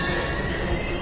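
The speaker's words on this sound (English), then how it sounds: "We gotta get on that train, Ethan." A steady rumbling train in the video game Heavy Rain with a faint high whine, heard alone at a constant, fairly loud level.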